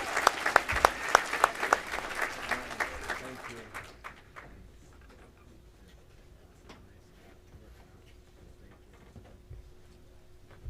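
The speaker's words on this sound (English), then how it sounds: "One more round of applause for our teacher award winners" An FFA convention audience gives another round of applause for teacher award winners: loud, dense clapping with a few sharp nearby claps that dies away after about four seconds, leaving quiet hall ambience and faint scattered sounds.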